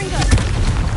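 A Confringo spell blast in the video game Hogwarts Legacy, a short dense burst of booming noise that fills the moment at steady loudness.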